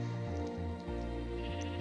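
Sheep bleating in the Minecraft video game, a short wavering game-style bleat repeated through the moment, fairly quiet and heard alone with no talk.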